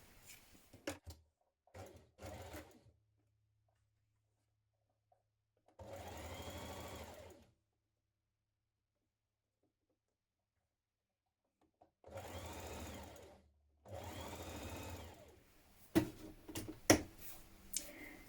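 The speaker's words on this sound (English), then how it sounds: "we're going to stitch that seam in place with a 1 centimetre seam" A sewing machine stitches a blouse side seam with a 1 cm seam allowance in several separate bursts of steady motor whirring, with quiet gaps between runs and light handling clicks at the start and end.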